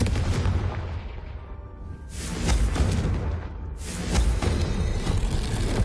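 Fire-spell Confringo explosions in the video game Hogwarts Legacy: loud, broad booming blasts that swell and roll into rumbling, crackling tails, with a fresh burst landing roughly every couple of seconds and no voices.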